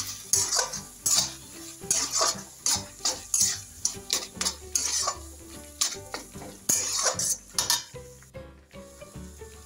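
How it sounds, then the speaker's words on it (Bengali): Metal spoon stirring salt into tomato chutney in a pan, with repeated scraping and clinking strokes in a steady rhythm, close and fairly loud, with no talking. "এবার অল্প একটু নুন দিয়ে দেবো, নুন দিয়ে নাড়াবো।"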